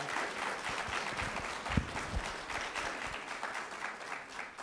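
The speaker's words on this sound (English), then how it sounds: "give them a round of applause." Steady applause from a crowd at a school district budget meeting, a continuous wash of clapping at moderate distance, sustained throughout without pause.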